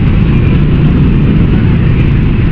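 Road traffic in Kalambagay gives off a loud, continuous low rumble of engines and tires. The dense, unbroken roar stays close and steady, with no talk over it.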